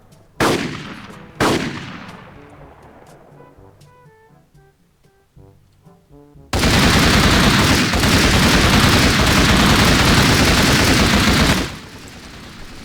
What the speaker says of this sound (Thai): โอ้โหเสียงปืนอย่างดังอ่ะ